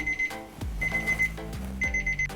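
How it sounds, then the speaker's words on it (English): A 30-minute kitchen timer goes off while tapioca boba pearls cook, beeping in repeated high electronic bursts with short gaps, fairly clear over a low background hum from the stove area. "our 30-minute timer has gone off."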